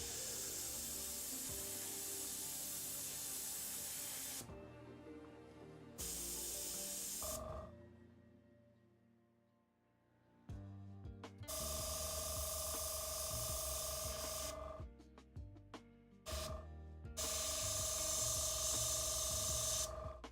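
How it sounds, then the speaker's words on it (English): An airbrush sprays paint onto a Warhammer 40k Dark Angels miniature while its nozzle begins to clog. Close, loud hissing bursts break off into short pauses and then resume, with no voices. "I'm very new to this whole airbrushing thing"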